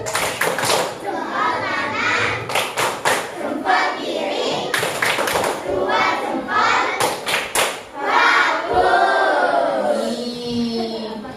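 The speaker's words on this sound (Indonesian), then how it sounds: "kasih tepuk salut dulu sesuai namanya. Tepuk salut." Students in an Indonesian classroom science lesson perform a rhythmic clapping cheer, sharp claps falling in grouped bursts amid lively children's voices and shouts throughout.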